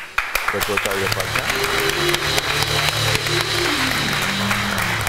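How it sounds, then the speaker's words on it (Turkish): A large audience claps steadily through the whole stretch, a dense wash of applause under a voice speaking over a live television talk show stage. "Bunu niye alkışladınız?"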